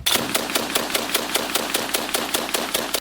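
Automatic weapon firing in a steady rapid burst of about a dozen evenly spaced shots, loud and close, ending abruptly after three seconds; the gun is built to absorb the shock and has almost no recoil.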